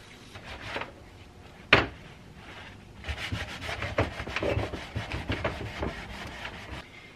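An antique 1920s Keystone Iron City hand crank grinder is cleaned with WD-40: one sharp click, then close, continuous scrubbing and rubbing strokes that grow busier and keep going to the end.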